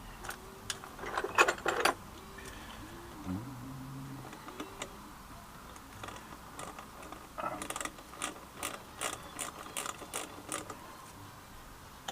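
A ratchet fitted with a 10 mm socket works on a brake caliper during a service: quiet scattered creaks and squeaks at first, then a run of close, crisp clicking bursts toward the end.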